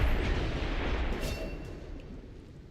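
In the video game XCOM 2, a small explosion booms loud and close, its broad rumble slowly decaying over a couple of seconds with no talk over it.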